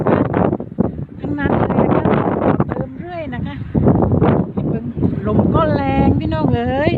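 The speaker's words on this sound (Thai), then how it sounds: "ลมแรงจริง ๆ นะคะ" Strong wind blows outside a hospital under repair, buffeting the microphone as a rough, continuous rumble beneath someone talking throughout.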